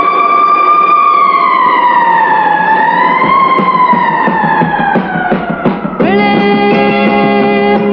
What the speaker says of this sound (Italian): ma soltanto sirene, sirene ad urlare il terrore